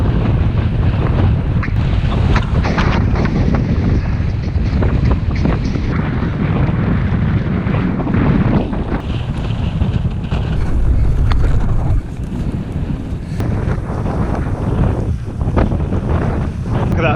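Strong headwind buffets the microphone while cycling through a storm, making a loud, continuous roaring rumble with gusty surges throughout.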